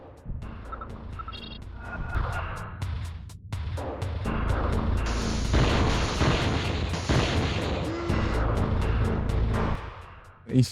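Gunfire in the survival horror game Alone in the Dark: The New Nightmare: a rapid run of loud, sharp shots over a heavy booming rumble, sustained for several seconds, then a final burst.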